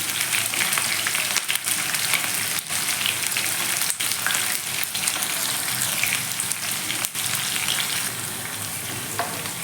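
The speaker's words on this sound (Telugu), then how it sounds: "చూసారుగా, ఉల్లిపాయ అనేది ఇలాగ కొంచెం వేగిపోవాలన్నమాట" Onion frying in a pan for a snake gourd seasoning gives a dense, loud, continuous sizzle with occasional soft knocks, no voices present.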